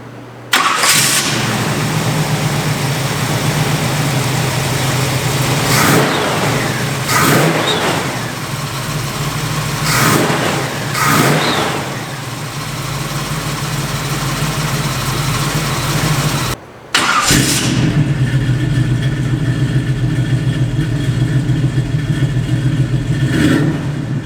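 A 1975 Chevy car engine cranks and fires up, then revs repeatedly in loud surges over a rumbling idle, cuts briefly, and restarts to a steady idle.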